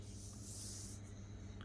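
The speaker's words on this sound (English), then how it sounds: "let me just give this a little spray just for the old time's sake" Paco Rabanne Invictus Legend perfume sprayed from its bottle, one short airy hiss lasting under a second, close and fairly soft, with no talk over it.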